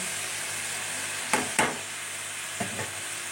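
Spices sizzle steadily in a pan with garlic and ginger, a constant frying hiss interrupted by a few sharp stirring scrapes and clinks close by.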